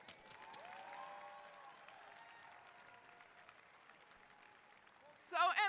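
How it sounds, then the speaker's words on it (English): At a 2023 college commencement ceremony, a voice speaks over a hall before a short burst of audience applause breaks out near the end. "Let us clap and say thank you."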